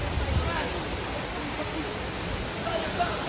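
Strong rushing current of Daranak Falls, a steady broadband roar of falling water filling the scene continuously, close and loud with no breaks.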